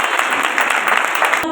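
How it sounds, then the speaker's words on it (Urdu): Loud, steady applause from a church congregation during a Sermon, a dense wash of clapping hands that carries on for the whole moment before cutting off at the end. "اس کے لیے زوردار تالیاں بجائیں گے"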